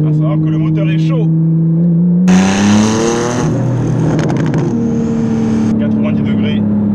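A Porsche 911 GTS phase 2 engine, warmed up and in sport mode, revs from idle in a rising sweep, holds a rough high note, then settles back to a steady hum, close inside the car.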